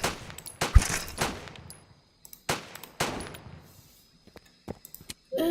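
Bursts of rapid gunfire from a first-person shooter game hit a gas tank, with two main volleys of sharp shots separated by pauses and a few scattered single shots afterward.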